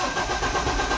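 A Mahindra Bolero engine with a starting problem runs steadily close by, a continuous mid-range engine drone with a faint whine on top, heard alone without speech.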